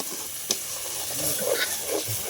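Onion with ginger and garlic paste sautés in a pan for a rabbit curry, a steady close hiss and sizzle with a brief tap of a utensil, and no voices.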